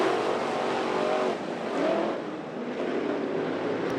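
IMCA Modified race cars at Grays Harbor Raceway launch into an eight-lap heat race, a dense, steady roar of several engines with tire and track noise, fairly loud throughout with a slight dip and swell midway.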